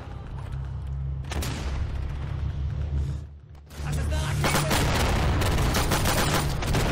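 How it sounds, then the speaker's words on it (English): Carpet bombing and gunfire in the World War II shooter Day of Infamy: dense, continuous bursts of explosions and rapid fire, loud and close, with a brief lull before a heavier barrage resumes. "There's a carpet bomb coming in"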